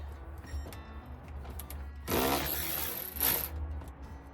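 A power tool loosens bolts on MOLLE brackets fitted to a rear cargo and roll bar: two short whirring bursts close by, separated by a quieter stretch of background noise, with no talk.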